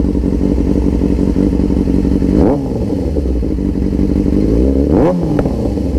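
Loud, close Kawasaki ZX-6R sport motorcycle engine rumbling steadily at idle, with two quick throttle blips that rise and fall in pitch, ending in sharp exhaust pops.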